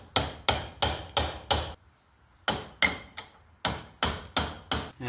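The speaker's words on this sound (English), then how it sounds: "hit this with your hammer on this side, and it'll slowly start pushing that off" A hammer strikes a bearing on the shaft of a Billy Goat thatcher in sharp metallic blows, five in quick rhythm, a short pause, then seven more, close and loud.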